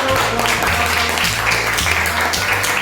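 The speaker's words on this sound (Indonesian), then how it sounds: "Beri tepuk tangan untuk" A class applauds after group presentations in a school religious studies lesson, with sustained dense clapping throughout and a low steady hum running beneath it.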